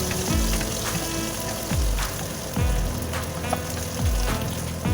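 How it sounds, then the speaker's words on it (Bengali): Shrimp frying red in hot oil in a wok, a continuous crackling sizzle broken by regular scraping strokes of a spatula, close and loud with no voices. "চিংড়ি মাছটা ভাজা হচ্ছে আমার।"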